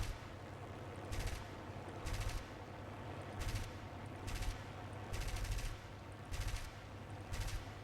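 Aircraft guns fire in the War Thunder video game in short repeated bursts of rapid gunfire over a steady engine drone, about seven bursts in a row.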